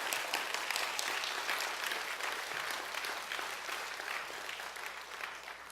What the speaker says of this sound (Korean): 박수 한번 칩시다